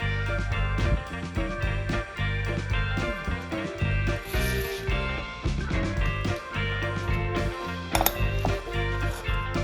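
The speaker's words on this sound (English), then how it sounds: "I'm going to try this impact for left-hand threads" An impact driver hammers at a left-hand-thread screw on a Ridgley wallpaper trimmer, a dense run of rapid mechanical clatter and ratcheting that carries steadily for the whole stretch, loud and close with no talking.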